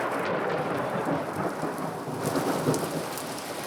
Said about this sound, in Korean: 새벽부터 우박이 내린다